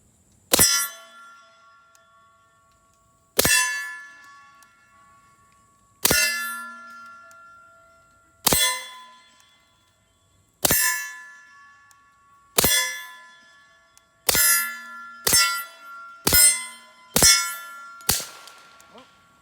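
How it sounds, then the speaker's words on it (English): Suppressed .45 pistol fired at a steel target, with about eleven sharp metallic clangs that ring out and decay, spaced a few seconds apart before speeding into a quicker string near the end; no talking. "That steel is louder than that gunshot."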